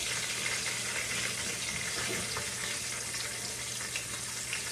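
A steady, faint sizzle of food frying in a pan, continuous crackling hiss with no voices.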